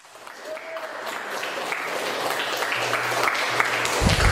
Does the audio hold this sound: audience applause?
yes